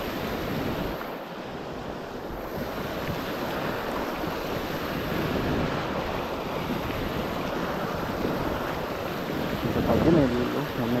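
Water rushing steadily from pipes at a village crossing, a continuous broad roar at close range that stays even throughout, with a brief fluttering disturbance near the end.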